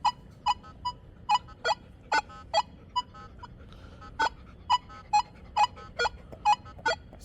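Nokta Legend metal detector sounding repeated short warbling tones over a dime lying among iron targets, about a dozen evenly spaced beeps, clear and close with no talking.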